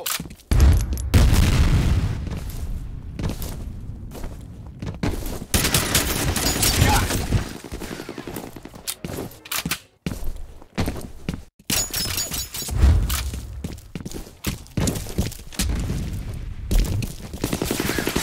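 Grenade detonation in Counter-Strike on the Dust 2 map, a loud booming blast amid bursts of gunfire and clattering impacts across the stretch, with several heavy thuds standing out.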